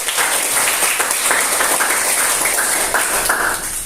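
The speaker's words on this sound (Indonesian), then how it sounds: "tepuk tangan dulu untuk jawaban" A classroom of students applauds a classmate's answer, dense continuous clapping filling the room at close range for a few seconds.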